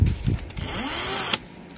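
A cordless impact drill runs forward in one short burst of about a second, a steady motor whine with a rising pitch that cuts off abruptly. It sounds close and loud, with a couple of handling knocks just before it starts.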